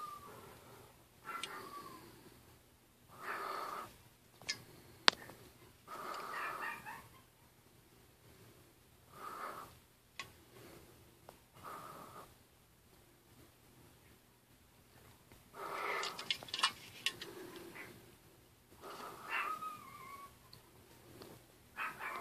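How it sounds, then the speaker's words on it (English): Dogs bark and yip indoors in scattered bursts, some close and some more muffled, separated by quiet pauses, with occasional whimpering. "Sorry about my dogs barking."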